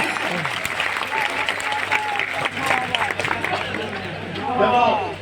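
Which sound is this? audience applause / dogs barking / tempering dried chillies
audience applause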